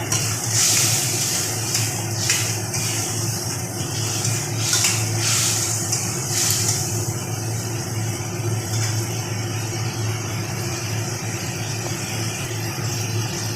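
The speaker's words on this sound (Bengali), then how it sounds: "কেননা মশলাটা ভাজা হতে হবে" Coriander and chili powder, soaked in water, fry in a pan for a fish head muri ghonto with potol, giving a steady, close sizzle that hisses evenly throughout with no talk.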